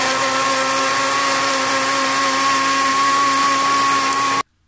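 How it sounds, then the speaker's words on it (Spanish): A blender whirring steadily while blending juice of oranges and kiwi, a loud constant motor whine lasting about four seconds before cutting off abruptly into silence. "Ahora vamos a proceder a licuarlo."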